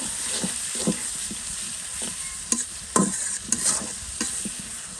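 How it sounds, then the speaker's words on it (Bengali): Shrimp frying in oil in a pan for a Bengali home-cooked curry, a steady close sizzle broken by sharp scrapes and clacks of a spatula stirring at irregular intervals, with no talking. "এখন হচ্ছে চিংড়ি মাছটা দিয়ে দিলাম এটাকে একটু ভাজা ভাজা করবো"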